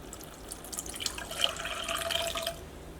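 Water from a measuring cup, about three-quarters of a cup, pours steadily into rice, coconut and pineapple batter for vattayappam, a soft continuous splashing trickle that builds and then stops, with no voices.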